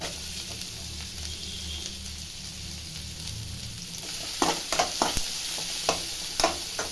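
Onions fry in a pan with ginger for gobi manchurian, a steady close sizzle throughout, with a few sharper crackles and stirring scrapes toward the end.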